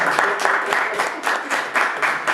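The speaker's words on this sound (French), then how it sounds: "On peut applaudir monsieur Ferry." A studio audience applauds a guest in a rhythmic, unified clapping pattern of regular bursts, fairly close and lively, with some voices mixed in.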